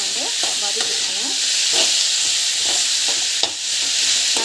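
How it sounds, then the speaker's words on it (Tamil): Onions being sautéed with salt and asafoetida in a pan, a steady close sizzle with repeated scraping strokes of a spatula and a brief clack near the end, no speech. "உப்பு ஆட் பண்ணி நல்லா வந்து வதக்கிக்கோங்க."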